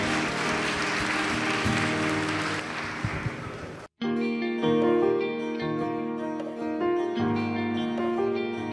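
A church audience applauds at the Leeds Chinese Gospel Church 15th anniversary service, a dense crowd clatter lasting about four seconds before it cuts to live gospel music with instruments and singing.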